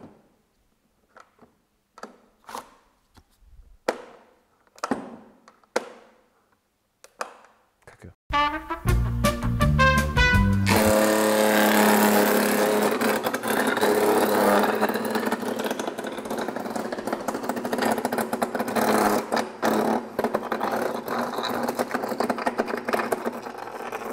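Sharp ticks and clicks come first, then a Bosch cordless garden shredder starts up and grinds a thick 30 mm branch with a loud, continuous chewing roar and crackle.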